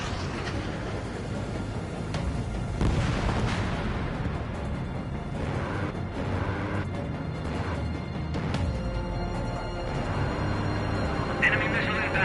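Rumbling blasts and booms of artillery fire and explosions over a harbor battle in the Ace Combat 7 air combat video game, layered with jet engine roar, under frequent radio chatter.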